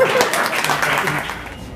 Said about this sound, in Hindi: बहुत सुंदर, ताली बजाओ।